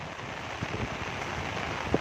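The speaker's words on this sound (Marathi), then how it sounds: "पाऊस पण मित्रांनो चालू झालेला आहे" Rain falling outdoors in the Konkan countryside, a soft continuous patter and wash of drops, fairly faint and steady with no talk.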